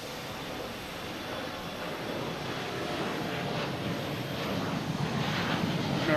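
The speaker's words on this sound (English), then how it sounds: "American Airlines heading to Cincinnati, E175." American Airlines Embraer E175 jet at Boston Logan Airport in the evening, a broad steady roar that slowly swells in loudness, heard alone with wind noise.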